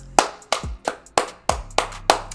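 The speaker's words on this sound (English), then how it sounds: "round of applause for Russell Gage, man." A round of applause plays in sharp, evenly spaced bursts, about seven loud claps in a steady rhythm, close and with no voices over them.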